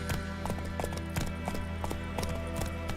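Horse hooves clip-clop steadily at a brisk, even rhythm, close and clear, with no talk, as a horse is ridden in the video game The Witcher 3: Wild Hunt.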